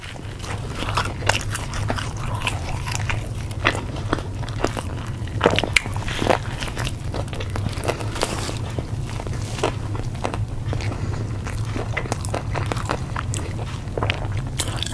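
A McDonald's cheeseburger is bitten and chewed up close, with a steady stream of soft, wet, squishy crunches and smacking mouth sounds and no talking.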